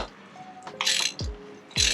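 A ratchet clicks in short bursts while loosening spark plugs on a Lincoln MKX, two or three quick, close ratcheting strokes separated by brief pauses.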